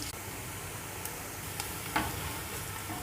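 Onions fry in a cup of hot cooking oil with a faint, even sizzle. A few soft stirring clicks break in now and then, and no voice is heard.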